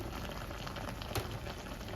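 Low bubbling of chicken simmering in a little water, a dense steady burble close by with one brief louder pop midway.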